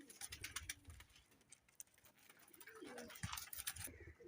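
Sialkoti pigeons coo softly in low, rolling calls, with scattered chirps and bird noise around them in a quiet setting.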